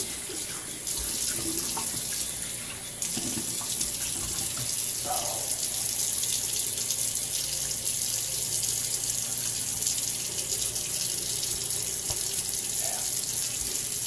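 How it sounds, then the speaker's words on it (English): Cold water runs from a sink tap during a warm wet shave, a steady close hiss of flowing water lasting throughout, with brief faint sounds of movement over it. "We'll run some cold water here"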